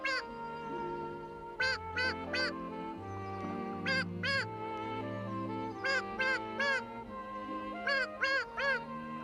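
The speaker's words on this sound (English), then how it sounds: "they saw the mother duck and her 5 other ducklings" A cartoon mother duck and her ducklings quack in quick clusters of two or three bright, nasal calls, repeating steadily over continuous background music in a 1986 Raggy Dolls episode.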